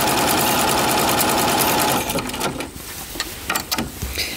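A home sewing machine stitches a Star Wars quilt with the needle-down setting, giving a steady, rapid mechanical whir for about two seconds. The motor then stops and soft handling and fabric sounds follow, fairly close.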